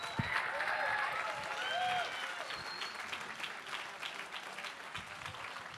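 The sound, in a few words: audience applause for donating artists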